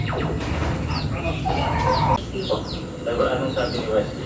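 Several chickens cluck and squawk nearby, with occasional sharper calls over a busy background, and people speak faintly underneath.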